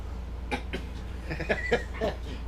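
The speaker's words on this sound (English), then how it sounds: "I just coughed on coffee" A person coughing after choking on coffee, a few short, rough bursts in quick succession, close to the microphone over a steady low hum, with no speech.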